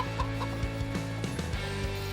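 Chickens clucking in a coop in Farming Simulator 25, a series of short rhythmic clucks and soft pecking knocks close by, repeating steadily over a faint background hum.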